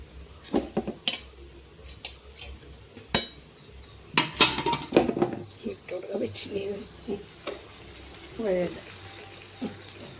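Mashed potato, boiled in a pressure cooker, is stirred into sautéed onions in a pan for masala dosa filling, giving scattered clinks and scrapes of a spoon on metal with soft sizzling between them.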